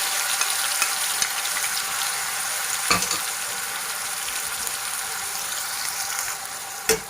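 Spring onion chutney frying in hot oil in a kadhai, a dense, steady sizzle close up, broken by a couple of sharp knocks of a spoon against the pan.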